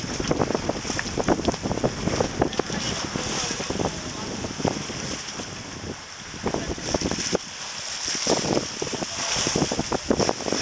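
Strong wind buffets a sailboat at sea on the way toward San Blas, roaring and gusting steadily against the microphone with the rush of water beneath, while voices talk faintly now and then.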